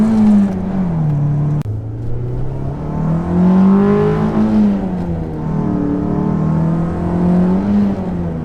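Toyota MR2 SW20 engine fitted with an aftermarket air intake, heard from inside the car as a loud, continuous rev that rises and falls through the gears, with a deep droning exhaust note and intake whoosh and no talk over it.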